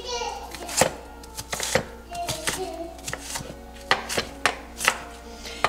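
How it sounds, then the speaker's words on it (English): An onion sliced and then chopped with a knife on a board: a close, uneven series of sharp thuds and clicks, some quick and some spaced, over a faint background voice. "I just slice it and then chop it like so."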